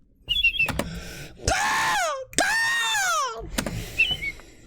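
A man whistles and warbles an imitation of an American robin's song with his voice, giving rising and falling phrases separated by short pauses.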